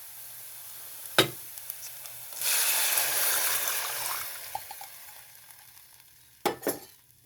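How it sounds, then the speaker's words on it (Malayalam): Ragi flour mixture poured into a hot pan makes a loud burst of sizzling hiss that gradually fades, framed by sharp utensil clanks at the start and end, with no voices. "അതിലേക്ക് നമുക്ക് നമ്മളുടെ റാഗിപ്പൊടി കലക്കി വെച്ചിരിക്കുന്നത് ഒഴിച്ചു കൊടുക്കാം"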